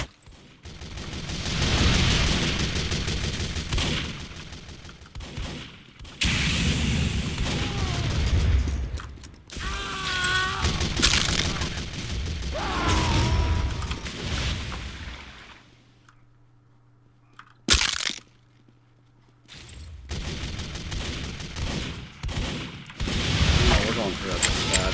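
Gunfire and weapon mechanisms in the video game Team Fortress 2 on a surf map, sounding as rapid, continuous loud shooting and clanking that runs most of the time, with a brief quieter gap near the end.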